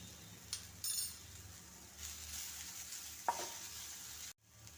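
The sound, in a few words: stirring turmeric powder into bitter gourd curry in a pan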